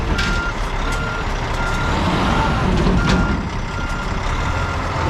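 Loaded dump truck delivering gravel at a dairy farm, stuck and spinning its back tires to dig in; a steady, loud engine roar and tire churn runs throughout, with a faint reversing beep.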